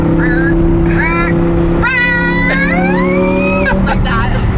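A straight-piped, tuned Audi R8 engine revs loudly on repeated downshifts, rising and falling whines and throttle blips over a steady drone, heard up close from inside the car with voices talking over it.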